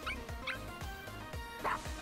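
A puppy in the game Dragalia Lost gives a quick run of small yips and soft barks, four or five short close calls in two seconds.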